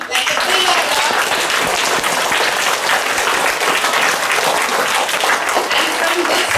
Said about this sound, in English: I think they need a round applause, like a big applause.